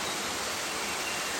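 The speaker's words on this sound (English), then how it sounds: "So we have now arrived down at Baxter Creek Falls." Waterfall at Baxter Creek Falls in the Sunshine Coast Hinterland, heard as a steady, even rushing wash of water that stays constant for the whole short stretch.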